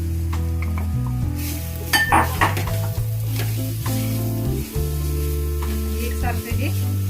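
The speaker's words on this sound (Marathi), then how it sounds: "एकसारखं हे परतून घेणार आहोत" Grated raw mango and jaggery are stirred in a kadhai, with a spoon scraping and clinking against the pan over a soft sizzle that carries on for several seconds under faint background sound.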